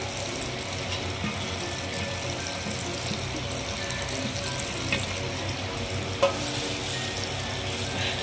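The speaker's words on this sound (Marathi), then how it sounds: "थोडेसे फ्राय होऊ दे." Mutton chops and fat sizzle steadily in hot oil with spices over a wood-fired stove, a dense, continuous crackling fry with occasional small pops and no voices.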